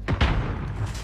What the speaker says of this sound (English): sounds like they got a shotgun